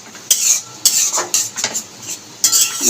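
Curry masala being stirred and fried in a pan for a Bengali tengra fish kalia, with sharp metal spoon scrapes and clinks against the pan in quick bursts over a low sizzle, close and fairly loud.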